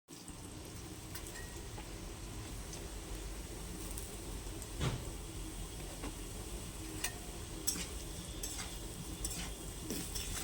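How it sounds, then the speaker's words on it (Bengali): Potatoes dropped into hot salted oil in a village-style kitchen, giving a faint, even crackle that runs throughout, with a few sharp ticks and pops rising above the steady hiss. "নেড়ে দিয়ে এবার আলুগুলো ছেড়ে দেবো লাল লাল ভাজার জন্য"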